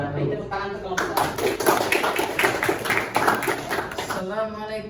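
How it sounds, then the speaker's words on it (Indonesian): Hands clapping in a classroom, a dense patter of claps from a group of students that builds and then tapers, with voices talking over it throughout. "Tepuk tangan untuk kelompok A."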